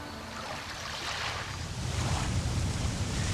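Ocean waves wash against the shore in early morning on tidal flats, a steady broad rush of surf that swells slightly louder toward the end, with no voices.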